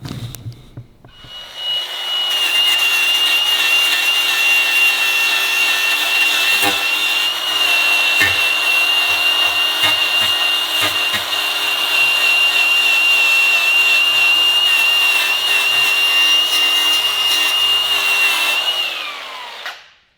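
A power tool whirs steadily for nearly twenty seconds, stripping paint off the metal frame of a Can-Am X3, with a high sustained tone, scraping grit and a few knocks, spinning down at the end.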